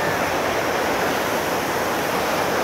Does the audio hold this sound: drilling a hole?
no